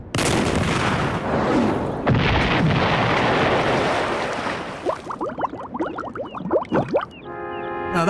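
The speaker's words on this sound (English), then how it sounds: "I loaded the cannon and adjusted the sight." Ship's cannon in the game Destination: Treasure Island firing, a loud booming blast rolling out over the first seconds, followed by sharp game effects and a swelling musical flourish.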